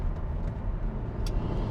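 2000 Mitsubishi Lancer Evo Tommi Makinen pulling away in fourth gear, a low rumbling engine and road noise heard from inside the car, steady and moderately loud, with a faint tick or two over it.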